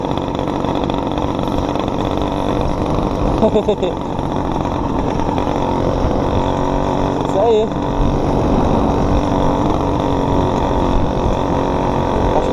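A motorized quad runs at about 70 km/h, its engine droning steadily up close with wind and rumble throughout, while people talk briefly over it.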